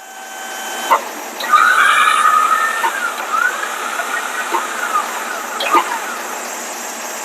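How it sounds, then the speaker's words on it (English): A truck-mounted autocrane booms up and winches down on a job site, with whining hydraulic and motor tones rising and falling, sharp mechanical clunks at the start and end of each move, and steady background hiss. "Gonna boom up. Gonna winch down."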